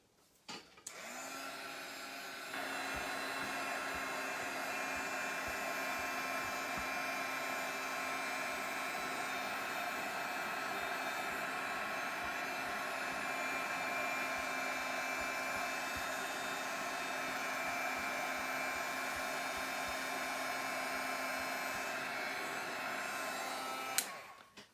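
A heat tool dries eggplant-colored paint on a mixed media canvas. Its steady, close, whirring fan-like drone starts with a click and runs unbroken for about twenty seconds before cutting off abruptly, with no talking.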